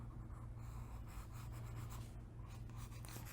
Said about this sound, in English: Right now I have a 6B, which is a nice middle grade, soft, smudgy pencil for shading.